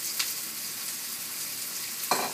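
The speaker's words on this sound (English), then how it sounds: "So we're going to throw in our onions." Rough-chopped onions hit a hot pan, giving a steady, fairly quiet sizzle throughout with a couple of brief sharper pops at the start and near the end, and no talking.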